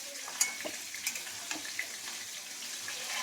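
Fish frying in a pan of hot oil gives a constant close sizzle with a few crisp pops and spatters, fairly quiet and without any voices.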